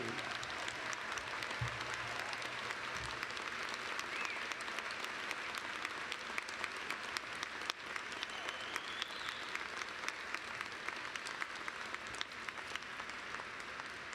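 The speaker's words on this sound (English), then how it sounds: "Will the audience please join me in a round of applause for the JD class of 2017" A large commencement audience applauds the graduating JD law class of 2017, a dense, continuous hiss of many hands clapping at once that holds steady for a long stretch, heard from a distance.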